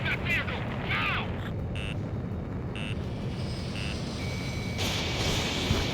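Missile incoming warning alarm in the jet combat game Ace Combat 7, a series of repeated electronic tones that run into a sustained steady beep over heavy engine rumble, with a voice shouting over it.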